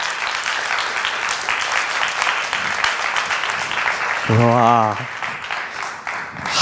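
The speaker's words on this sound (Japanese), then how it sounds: "カサキに大きな拍手してください" A congregation at a worship gathering gives Kasaki steady, sustained applause after a prayer, and one voice lets out a brief exclamation partway through.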